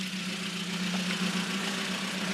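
A Ford Focus MK1 RS engine idling with a misfire, a close, steady mid-pitched drone with a slightly uneven pulse throughout, and no talk.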